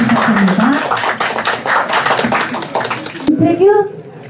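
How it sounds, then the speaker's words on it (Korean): A crowd at a campaign office opening ceremony claps in a dense burst of applause during a cake cutting, mixed with voices, and the clapping drops away near the end. "여러분 큰 박수로 부탁드립니다"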